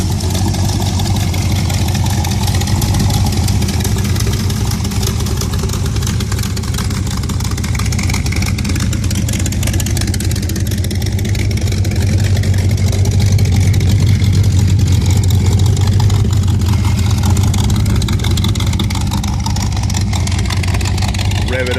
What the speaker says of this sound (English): Rev it up so you can hear how it fires up.